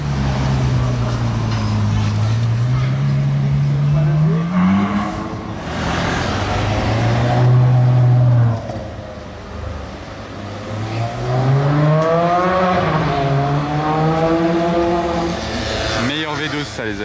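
A V12 hypercar engine revs hard in Monaco, rising and falling through several strong throttle sweeps with a deep, sustained tone, loud and close, and a voice is briefly heard at points.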